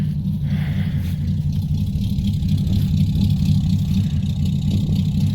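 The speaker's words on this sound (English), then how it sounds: "Pull that choke out the rest of the way, and she'll idle." A Chevrolet C10 truck engine idles just after a cold start with the choke pulled fully out, a loud, close, steady low rumble with a slightly uneven throb and no voices.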